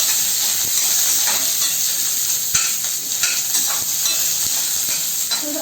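Onions sizzle and fry steadily in a hot pan for a shark curry, with a constant bright hiss broken by occasional stirring scrapes and taps.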